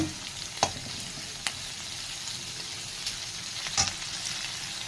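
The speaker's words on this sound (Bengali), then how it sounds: "আমি এই যে ফোড়ন দিয়েছি লঙ্কা পেঁয়াজ আর পাঁচফোড়ন তেলে দিয়ে দিয়েছি। তারপরে যে মাছগুলো নেড়ে নিচ্ছি।" Fish pieces stirred in hot oil with green chilli, onion and panch phoron tempering: a continuous close frying sizzle broken by a few sharp clinks of the spatula against the pan, no voices.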